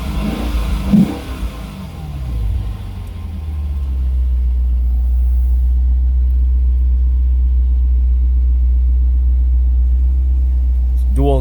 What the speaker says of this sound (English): You guys hear that exhaust?